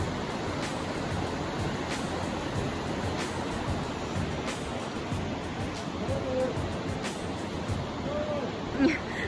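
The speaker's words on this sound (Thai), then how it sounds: "นู้นตรงนู้นเป็นน้ำตกนะคะ" Waterfall at Capilano Suspension Bridge Park in North Vancouver, a steady broadband rush of falling water heard from a distance, continuous throughout.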